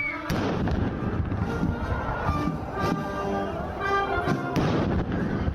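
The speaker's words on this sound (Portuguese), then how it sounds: "seguido de uma salva de 21 tiros de canhão" Several heavy booms ring out one after another at measured intervals, each a deep thud with a lingering echo: a ceremonial 21-gun cannon salute at a flag-changing ceremony in Brazil.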